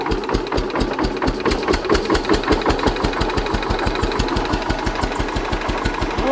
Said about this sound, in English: Let's check out if the engine runs in it.